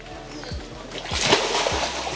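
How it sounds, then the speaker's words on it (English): A fish leaps out of spring water at a natural springs, making a brief nearby splash with a light slosh against an outdoor backdrop where people are talking. "No, it was a fish just jumped out of the water."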